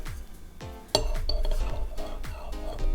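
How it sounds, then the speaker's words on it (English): A spoon clinking against a mug while stirring vegan creamer into coffee, a run of repeated light metallic taps in an uneven rhythm, close and clear with no talking. "Let's give it a stir."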